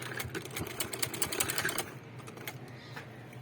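A sewing machine stitching a fabric cover runs in a rapid, even needle chatter for under two seconds, then stops, leaving a faint hum and a few light clicks.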